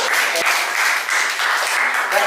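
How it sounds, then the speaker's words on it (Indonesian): A class audience applauds during a university teaching session, producing loud, dense clapping that surges in a few waves over roughly two seconds. "Tepuk tangan buat kita semua."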